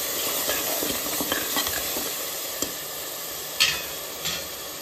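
Garam masala and salt being stirred into a hot pan give a steady sizzle and hiss, broken by a few sharp scrapes and clinks of the spoon against the pan, close and alone.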